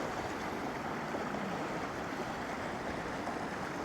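Small waterfalls spilling below a rebuilt dam near Elche, a steady, even rush of falling water heard from a short distance, continuous and unbroken.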